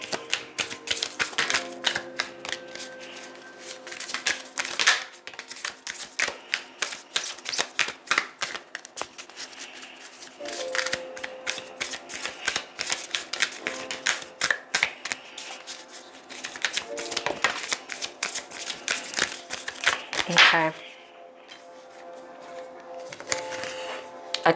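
Moonology oracle cards are shuffled by hand in repeated crisp riffling bursts, a dense rapid flutter of card edges close up that pauses briefly near the end before starting again, with no talking.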